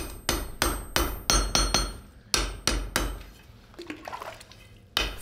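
A hammer forges katana steel on an anvil, drawing out the blade with a rounded hammer. About ten sharp, ringing blows fall in a quick, uneven rhythm, followed by a quieter pause of light clinks and one final strike.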